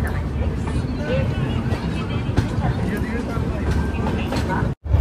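Inside a moving Indian passenger train on a Haridwar to Delhi rail journey: a constant low rumble and rattle of the carriage with faint background chatter, plus a brief dropout near the end.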